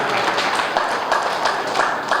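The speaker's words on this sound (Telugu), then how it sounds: "అయితే కొంచెం చప్పట్లతో చెప్పండి కదా" An audience at a Guru Purnima celebration in a yoga centre claps together in a short, dense burst of applause with an uneven patter, fairly loud and continuous.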